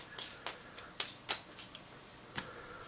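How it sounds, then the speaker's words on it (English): A deck of cards shuffled during a tabletop game playtest, a handful of quiet, sharp riffling snaps spaced irregularly over a few seconds in a still room. "I shuffle the deck."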